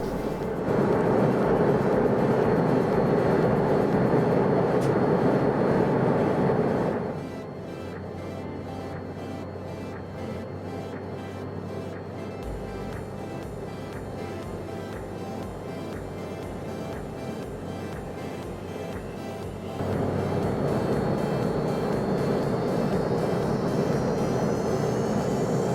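Cabin drone of an Avro RJ100 airliner in flight between Gothenburg and Stockholm Bromma, a steady broadband roar that drops to a quieter hum partway through before swelling loud again near the end.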